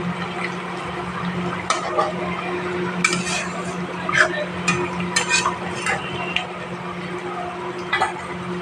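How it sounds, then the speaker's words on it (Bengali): Gentle stirring of pabda fish curry in oil and chilli gravy in a pan, with soft scrapes and light clinks scattered over a steady low simmer hum, nearby and fairly quiet. "মাছটা খুব নরম তো হালকা হাতে নাড়াচাড়া করে দেবো"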